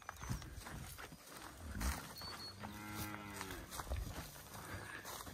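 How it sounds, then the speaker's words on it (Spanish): Pregnant Beefmaster cows on a ranch moo, one long low call standing out near the middle over soft outdoor ambience and scattered shuffling. "Todos estos lotes son vacas preñadas"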